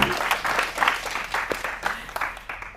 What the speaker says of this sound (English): All right, we can clap now.